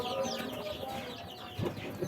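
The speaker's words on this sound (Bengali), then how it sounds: "আমার এখানে কিছু মুরগির বাচ্চা আছে আশেপাশে ঘোরাঘুরি করতেছে" Chickens and chicks wandering about outdoors at dusk, with soft scattered clucks and faint chirps nearby under a steady background hum, quiet overall.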